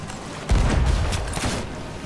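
Sniper gunshots ring out in a pirate-ship video game battle at sea, a heavy boom followed by a few rapid cracks and rumbling reports over roughly a second and a half.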